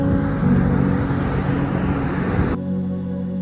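A car drives along a road in Scotland with a steady, loud rumble of road and engine noise that cuts suddenly to a quieter, even hum.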